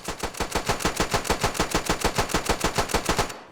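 A World War I era machine gun in a Mount & Blade Warband mod fires one long steady burst of rapid, evenly spaced shots for several seconds, loud and close, with no talk over it.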